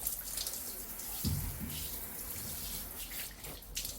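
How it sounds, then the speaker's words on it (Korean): Water showers onto the leaves of a potted Genista on a veranda, making a continuous hissing spray that stays even throughout, with one brief thump partway. "겨울에는 베란다 온도가 충분히 올라갔을 때 한낮에 잎에 샤워시켜줍니다."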